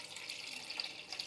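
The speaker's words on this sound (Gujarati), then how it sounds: "અને હવે આપણે નાખી દઈએ એમાં ભરપૂર પાણી" Water pours steadily into a bowl of pani puri spice mix, a soft continuous splashing trickle heard close and fairly faint with no speech.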